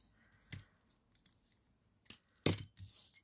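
Scissors snip through jelly transparent ribbon for a layered dolly hairbow, with three or four crisp, separate cuts close to the microphone and quiet pauses between them.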